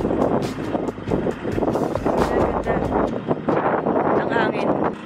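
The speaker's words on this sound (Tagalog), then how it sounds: "Ang hangin." Gusty wind blows at Baban's Homestay viewpoint in Baguio City, buffeting the microphone with a loud, steady rumble and roar as voices talk underneath.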